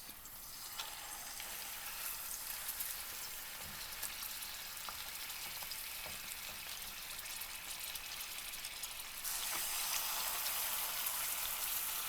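Steady crackling sizzle of meat triangles wrapped in chicken skin frying in a hot pan, a dense hiss that grows slightly louder near the end.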